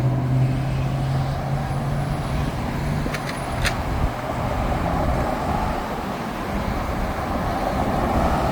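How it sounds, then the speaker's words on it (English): Steady roadside traffic as cars roll over a flattened plastic antifreeze jug lying in the road, a continuous loud vehicle rumble with a few brief sharp crackles partway through. "there's an antifreeze jug that's been flattened in the road over here. Cars keep hitting it."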